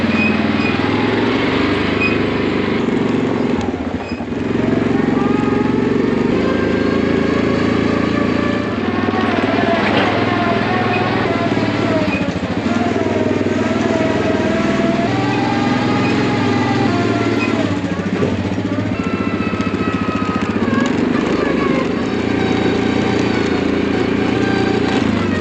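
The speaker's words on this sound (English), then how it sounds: "we're gonna hop on the four-wheeler, head on down" A four-wheeler ATV engine drones steadily and loudly while riding, its pitch rising and falling with throttle changes throughout, with no talking over it.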